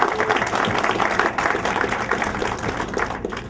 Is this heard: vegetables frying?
no